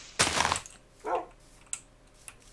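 A dog in a Minecraft game barks once loudly and sharply, then gives a softer second bark, followed by a couple of faint clicks in an otherwise quiet moment.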